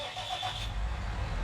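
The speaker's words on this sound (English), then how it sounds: "That's the sound of a little bit more horsepower." Tractor engine cranking and catching in a farming simulator game, a short mechanical start that settles into a low steady rumble, faint and somewhat muffled.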